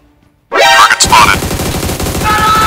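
Gunfire in the battle-royale video game PUBG, a sudden loud burst of shots after a moment of near silence, followed by continued busy game noise with a voice briefly talking over it.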